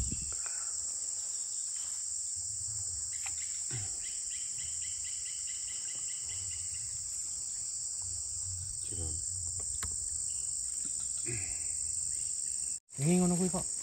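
Crickets kept in a jar as fishing bait chirp in a continuous high, shrill trill, close and steady, with faint outdoor noise and occasional muffled voices beneath.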